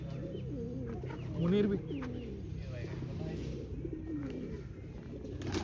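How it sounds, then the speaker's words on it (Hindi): Pigeons cooing on a goat farm, one brief, close, soft coo that stands out over steady background hum, with someone talking throughout. "उस तरफ हमारे कबूतर वगैरह कहाँ गए हुए हैं"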